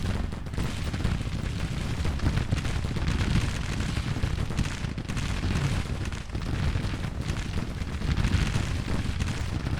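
Massed musket volleys and artillery fire from a Civil War battle in Grand Tactician crackle and boom without pause, loud and dense, with scattered heavier thuds and almost no talking.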